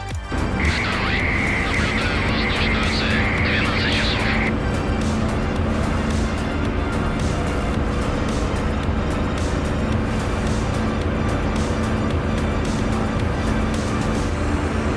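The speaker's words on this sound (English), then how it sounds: "The DCS Spit is so vicious on the ground." Spitfire aircraft engine in the DCS combat flight game, a continuous loud droning roar with a brief tonal warning-like whine early on.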